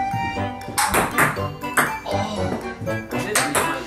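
Ping pong balls striking battleship targets in a tabletop game, several sharp bright pings and taps in irregular succession, close and crisp, with excited voices calling out between the hits.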